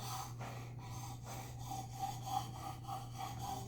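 Steady back-and-forth scrubbing of an S35V steel knife blade on a wet sharpening stone held in a jig, a rhythmic rasping stroke repeating about every half second under a low constant hum.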